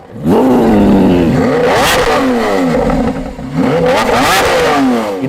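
A Lamborghini Aventador's V12 revs hard twice, pitch climbing and falling in loud, sustained roaring sweeps, close and unbroken by talk.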